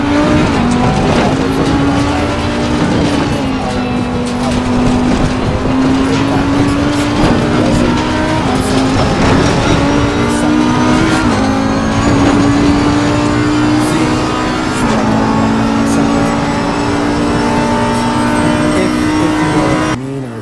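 Race car engine in the video game Assetto Corsa Competizione at Spa-Francorchamps, racing at night in the rain: a loud, steady engine drone holds and shifts pitch through gear changes, with faint tire noise throughout.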